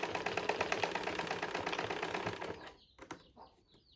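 A sewing machine stitches a gown straight down to the hem, a fast, steady mechanical clatter running close and loud for about two and a half seconds before it stops, leaving a few faint clicks and handling noises.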